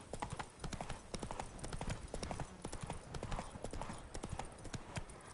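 Roach, the horse in The Witcher 3: Wild Hunt, gallops with rapid rhythmic hoofbeats pounding continuously and fairly close, with a faint whinny in the mix.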